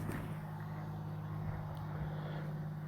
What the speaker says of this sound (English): you can see that plane. You can probably hear it.